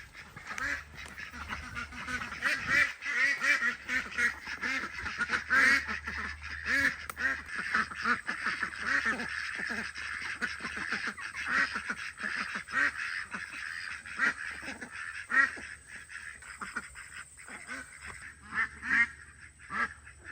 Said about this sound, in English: All the ducks want out.